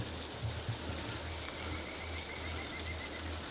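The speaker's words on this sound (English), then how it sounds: "There is some light rain." Light rain falls beside a water reservoir, a soft continuous hiss of drizzle patter holding steady and faint throughout, with a faint croaking-like sound low underneath.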